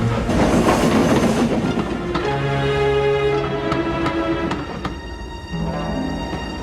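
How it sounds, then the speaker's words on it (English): Steam locomotive in a Roblox railway game puffing along its route, a steady loud rumble with rhythmic chuffs, tonal whistle-like hums and rail clatter running throughout, no talking. "Meanwhile, James puffed along his route."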